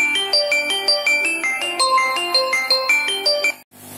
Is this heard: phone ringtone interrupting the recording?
yes